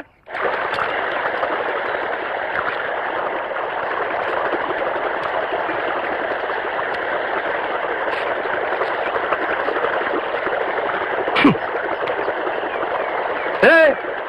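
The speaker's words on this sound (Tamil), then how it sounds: "வாய்க்கால இவ்வளவு தண்ணி போகுது" Water rushing steadily through an irrigation channel fed by a pump set, a continuous broad close-up flow with a couple of brief splashy knocks near the end.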